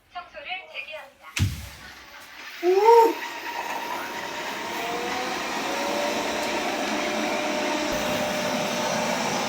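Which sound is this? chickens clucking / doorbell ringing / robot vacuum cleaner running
robot vacuum cleaner running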